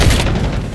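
A frag grenade explodes in the Black Ops 6 video game with a single loud, close, low boom that fades into a rumbling tail over less than a second.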